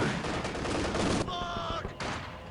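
A Soviet Maxim machine gun fires a fast, loud burst in the Company of Heroes 2 strategy game amid battle noise, then the rattle briefly gives way to tonal game sounds before the gunfire resumes.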